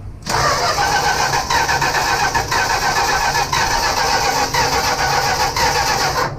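A 1965 Plymouth Barracuda that has sat for three years cranks steadily without firing, the starter churning in a continuous rhythmic grind for several seconds, close and loud, with no voices.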